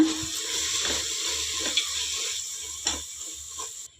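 Spices and salt stirred into a cooking pan while making a soya and double beans pulao, a steady sizzle with light scraping strokes and a few soft knocks throughout.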